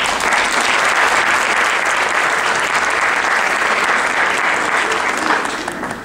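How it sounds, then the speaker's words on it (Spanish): Sustained audience applause fills a Mexican academic panel hall at a national university meeting, steady and dense throughout before tapering slightly at the end. "Démosle un aplauso."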